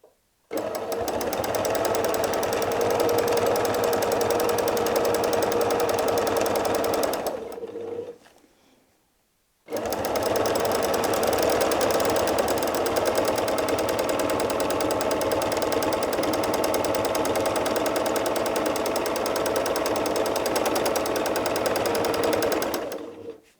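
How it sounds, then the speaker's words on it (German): A sewing machine quilts heart shapes on patchwork in a rapid, steady mechanical rattle, loud and close. It pauses briefly for about two seconds and then resumes at the same even pace. "Am Ende verriegeln wir wieder, nähen dreimal auf der Stelle."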